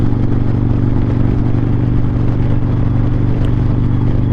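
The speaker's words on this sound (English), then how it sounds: "I can actually hear how the exhaust sounds different at the higher elevation" A Harley-Davidson Road Glide motorcycle exhaust at Spooner Summit, about 7,146 feet elevation, rumbles as a steady, loud low engine drone for the whole stretch, with continuous wind and road noise over it.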